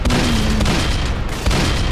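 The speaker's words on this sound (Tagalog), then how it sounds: "Pag nasot ka ng machine gun, kailangan mo tumalon." Dense, sustained machine gun fire in the Roblox game Dead Rails, continuous booming bursts filling the whole stretch with no pauses.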